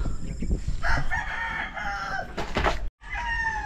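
A rooster crows loudly among clucking chickens near a house under construction, the long harmonic crow repeating over steady barnyard noise, with a brief dropout before the crowing resumes.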